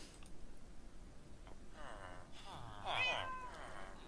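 Cats meow a few times in a Lord of the Rings video game, with short mewing calls that overlap and come at moderate distance over a low background hum.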